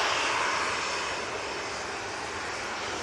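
Ryanair Boeing 737-800 with Sharklets at an airport, a steady airy jet engine roar that fades slightly, heard alone at moderate distance.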